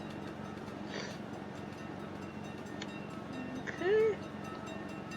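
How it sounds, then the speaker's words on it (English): A Dutch diesel train engine from a train simulator game runs with a steady low droning rumble throughout, while a voice says a brief word near the end. "now let's continue on with the silly choo-choo train engines"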